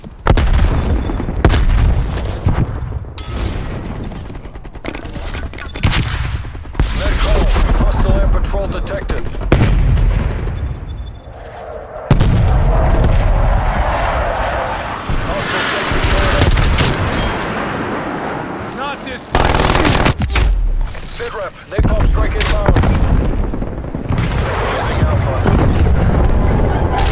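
Turret fire in the Call of Duty Black Ops Cold War game: loud, rapid bursts of gunfire and booming impacts that come in repeated clusters with short pauses, mixed with battle noise and occasional voices.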